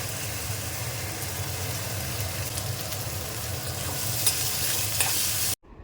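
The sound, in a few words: frying onion until golden brown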